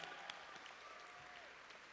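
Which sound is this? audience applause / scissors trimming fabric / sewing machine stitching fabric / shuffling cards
audience applause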